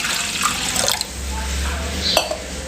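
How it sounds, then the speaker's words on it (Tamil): Water splashes and pours into a metal pot for a dry fish fry, a brief gurgling stream with light clinks, heard up close. "இப்போ இதில் தேவையான அளவு தண்ணி சேர்த்துக்கலாங்க"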